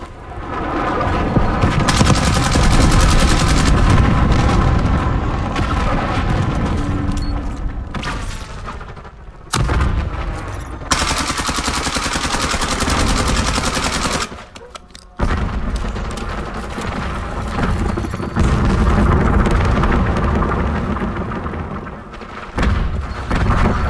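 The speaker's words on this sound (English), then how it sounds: "Enemy napalm strike incoming." Dense, loud battle noise from a shooter game, with rolling napalm-strike explosions and booms layered over continuous gunfire, nearly unbroken apart from a couple of brief dips.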